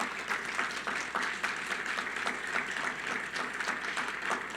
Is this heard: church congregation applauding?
yes